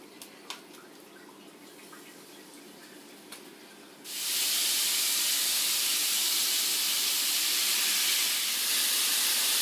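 Chicken for a chicken burger goes into a hot pan: a few faint kitchen noises, then a sudden loud, steady sizzle that holds close and unbroken to the end.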